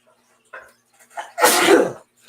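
A loud, close sneeze bursts out after a couple of short breathy intakes, then quiet follows.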